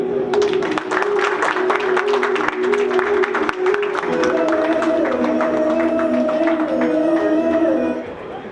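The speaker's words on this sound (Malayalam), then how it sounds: "ഒരു നല്ല കയ്യടി." Dense audience clapping at a Malayalam movie launch function fills the hall steadily for about eight seconds, with sustained musical tones running underneath before the applause fades out at the end.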